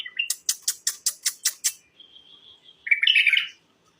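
A bulbul sings close and clear: a quick run of about eight sharp repeated chirps, then a thin sustained whistle and a brief bright warbled phrase, with no voices.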